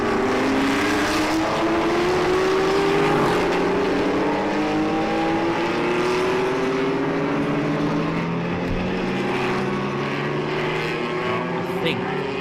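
A classic Shelby Cobra race car laps the Jarama circuit. Its engine drones steadily with rising and falling tones as it passes through the gears, under a commentator's continuous talk.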